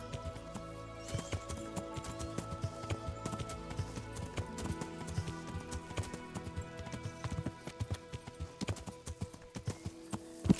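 A ridden horse's hooves clip-clop in a steady, fairly close rhythm in the medieval game Kingdom Come: Deliverance, with faint game ambience and no speech.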